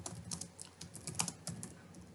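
Computer keyboard typing while writing Angular code, quick close irregular keystrokes in short bursts, fairly quiet, with no talking.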